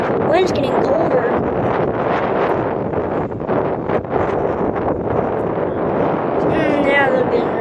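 Strong wind at Springfield Branson National Airport buffeting the microphone, a loud continuous rushing roar with gusty swells that barely lets up.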